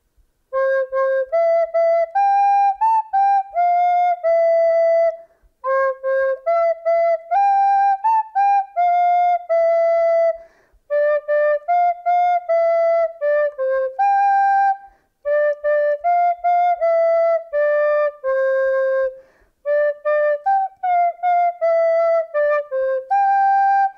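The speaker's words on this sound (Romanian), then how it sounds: "Vă cânt melodia cu un fluier." A high, clear flute (fluier) plays a simple folk-like melody in several phrases with short pauses between them, loud and close, with no voices.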